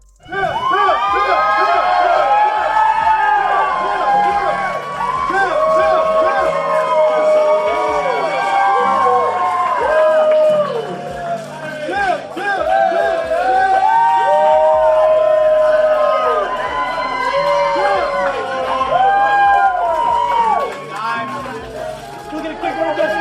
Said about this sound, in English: received a hero's welcome from a vocal hometown crowd at the airport.